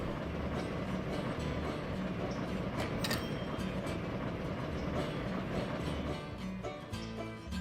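A heavy logging freight train of about 2,000 tons rolls over rails in the railroad game Railroader, a steady, loud rumble and rattle of wagons that eases slightly near the end.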